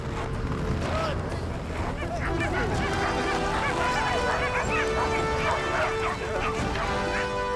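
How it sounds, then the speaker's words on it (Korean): Reindeer-herding dogs bark repeatedly out on the Russian tundra of Yamal, a dense, steady chorus of overlapping yaps and yips from several dogs at middle distance, with honking, goose-like calls mixed in and no pause throughout. "술록치기 개들이 짖는 소리가 들리고"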